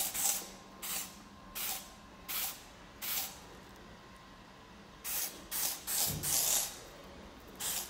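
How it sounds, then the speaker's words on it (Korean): Hard hair spray misted onto a finished men's hairstyle in a salon, coming as a series of short, crisp hissing bursts with brief gaps, the last few quicker and closer together. "스프레이를 살짝 뿌려서 마무리를 줘볼게요."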